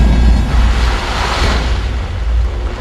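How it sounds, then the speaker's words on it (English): Pressurized gas blasts Mount Vesuvius volcanic ash out of a cylinder in a loud, sustained, roaring whoosh that swells and then holds steady, heard alone without voices. "Pressurized gas creates an explosion that ejects the ash."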